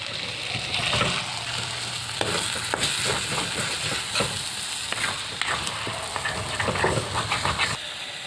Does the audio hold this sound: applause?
no